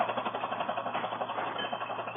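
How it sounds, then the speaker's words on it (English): A tractor engine runs near a cliff edge, a steady, rhythmic chugging pulse of mid-range tone, moderately loud and continuous with no voices over it. "Oh, Lloyd, you'd better move that tractor away from the edge of the cliff."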